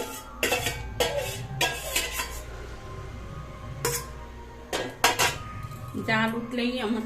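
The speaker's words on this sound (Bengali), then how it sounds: "এবার মাছগুলো দিয়ে দেবে মাছগুলো এখানটা দিয়ে দিলাম" Fresh rohu fish pieces go into a cooking pan for a spicy potato curry, with a series of sharp metallic clanks and scrapes of utensils against the pan, close and fairly loud, spaced irregularly over a low background hum.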